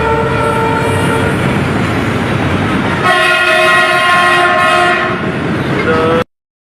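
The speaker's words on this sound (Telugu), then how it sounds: "ఇందాక మనకి ట్రైన్ సౌండ్ కూడా ఉదో ఉదో అని ఒక సౌండ్" A loud, close train horn sounds in long sustained blasts over the heavy rumble of a passing train, then cuts off abruptly.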